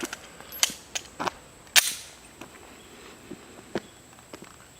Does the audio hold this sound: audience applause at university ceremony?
no